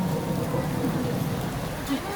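Artificial rain falling in Sharjah, UAE, in summer makes a steady close hiss and patter of water without a break, with voices faintly under it.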